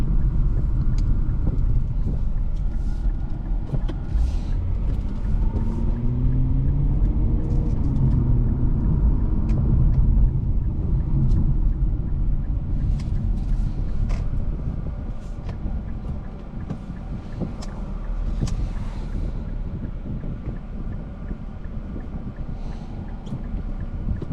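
A 2023 Infiniti Q50 driving on a road, heard from inside as a steady low engine and road rumble with tyre noise, easing slightly in the second half, no talking.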